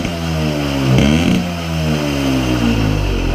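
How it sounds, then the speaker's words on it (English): A Yamaha PW50 small two-stroke motorcycle engine, newly given a carburetor tune-up, revs up sharply from idle, peaks and falls, then climbs again, loud and close with no talking. "Awesome throttle response."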